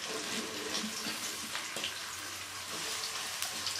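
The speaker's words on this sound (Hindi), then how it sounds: "कुकिंग ऑयल हमारा गर्म हो रहा है, अब हम इसमें प्याज डालते हैं।" Onions hit hot cooking oil in a wok and fry with a dense, steady sizzling hiss, quiet but continuous for a few seconds.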